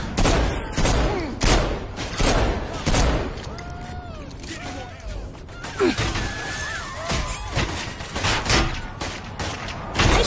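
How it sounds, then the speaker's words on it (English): Gunfire in the Xbox 360 game Saints Row IV, loud dense bursts of shots and crashes with glass-like shattering and whistling effects, mixed under game voices shouting. "I'm under heavy fire here!"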